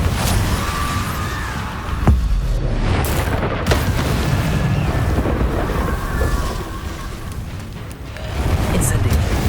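Rumbling blasts and whooshes from fire and explosion spells such as Confringo and Bombarda in the Hogwarts Legacy video game, a steady loud wash of bursts that runs through the whole stretch.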